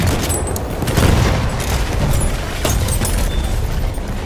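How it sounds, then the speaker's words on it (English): Battlefield 1 battle sounds on the Amiens map: booming blasts and rattling gunfire in a dense, loud, continuous wash, with no talking. "This grenade for that."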